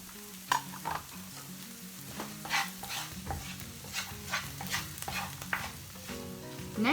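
Chopped garlic sizzles in a frying pan while a utensil stirs and scrapes it, with irregular clacks and scrapes over a steady frying hiss, close and without talking.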